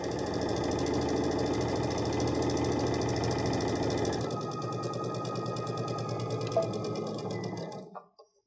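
A sewing machine runs at steady speed, stitching a casing on a drawstring bag with a fast, continuous mechanical hum, slowing slightly partway through and stopping near the end.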